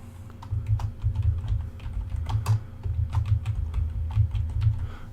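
Keys on a computer keyboard clatter up close in quick, uneven bursts as a folder name is typed in Ubuntu Mate, with a steady low hum underneath and nobody speaking.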